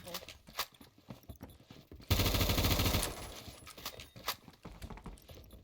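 Automatic gunfire in a first-person shooter game, with recoil the concern, one loud sustained burst of about a second mid-clip, surrounded by quieter game sounds and someone talking.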